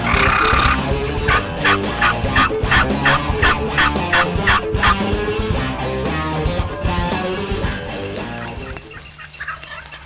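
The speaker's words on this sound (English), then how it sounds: "the turkeys turned around and headed our way" Wild turkeys gobbling out in the open after rain, a dense run of loud, rapid gobbling calls that overlap and rattle on for several seconds before tapering off near the end.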